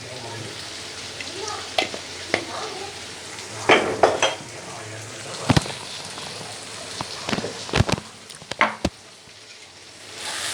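Sorakai (bottle gourd) curry being stirred in a pan after ground coriander is added, with a steady sizzle of frying and scattered scrapes and clinks of a spoon against the metal.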